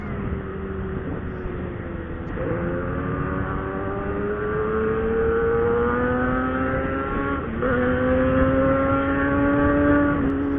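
A powerful motorcycle engine roars and revs at a distance, its rising and falling pitch sweeping through gear changes, loud and continuous with no talking.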